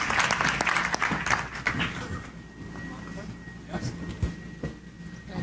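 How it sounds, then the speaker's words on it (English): Audience applause for Premier members at a property network event in Soweto, louder at first and then thinning into scattered claps under background murmur and voices. "So let's give them a round of applause"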